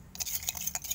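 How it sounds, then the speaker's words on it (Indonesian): Spoon clinking and stirring salt into a little water in a container, quick light metallic ticks repeating rapidly and close up, with no talking. "Aduk teman-teman ya."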